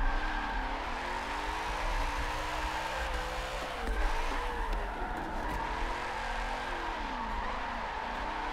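A car drifts in Forza 7 on a racing wheel setup, with a continuous engine drone and sustained, wavering tire squeal and skidding through a hard initiation flick, steady and loud throughout.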